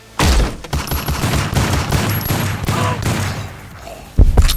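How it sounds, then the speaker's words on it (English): Gunfire erupts right after a door is breached in a cyberpunk action audio drama, a loud dense fusillade of rapid shots running continuously for several seconds, with a heavy burst near the end. "Breach the door and start shooting."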